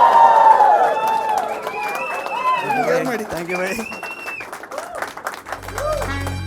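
A comedy club audience applauds a Kannada stand-up comedian. Sustained clapping and cheering with whistle-like calls runs throughout, while a voice speaks over it.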